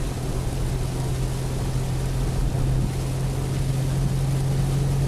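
Steady, dense hiss of heavy rain during the rainy season in Ranong, Thailand, continuous throughout, mixed with a constant low vehicle engine drone and no voices.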